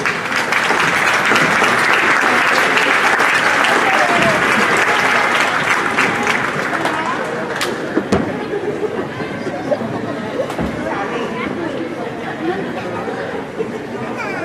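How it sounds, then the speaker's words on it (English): Graduation ceremony audience at a nursing pinning and commencement applauds loudly, a dense sustained clapping that gradually thins and softens over several seconds, with crowd chatter mixed in beneath. "Why don't you turn around and give them a round of applause."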